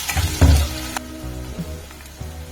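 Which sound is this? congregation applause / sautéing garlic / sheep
sautéing garlic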